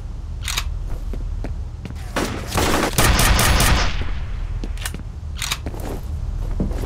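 Gunfire in the shooter game F.E.A.R., sharp shots and a rapid automatic burst in the middle, loud and close against a dull ambient background.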